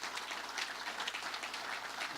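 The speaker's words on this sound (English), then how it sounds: "Let's give them a round of applause" A brief burst of audience applause at a political gathering in Utica, a dense, even patter of many hands heard faintly and at a distance.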